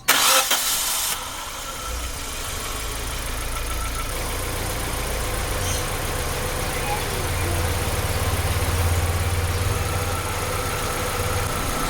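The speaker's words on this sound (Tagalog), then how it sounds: "papaandarin ko na yung yung makina" A Nissan Sentra's engine starts with a brief loud burst, then settles into a steady low idle that runs on throughout. The car has a newly replaced upper radiator hose.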